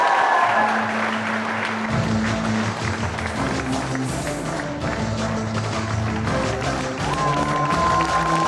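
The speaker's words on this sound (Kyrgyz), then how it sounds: "Кол чабуулар." Studio audience applauds loudly and steadily for a Kyrgyz pop singer's arrival on a children's quiz television show, dense sustained clapping with faint music underneath throughout.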